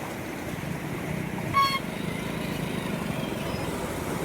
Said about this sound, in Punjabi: ਤੁਸੀਂ ਦੇਖਦੇ ਕਿੰਨੀ ਸਪੀਡ ਨਾਲ ਪਾਣੀ ਆ ਰਿਹਾ